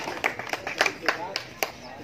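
Scattered applause for the best player at a tournament prize distribution, a handful of sharp separate claps at an uneven rhythm, close by and fairly sparse.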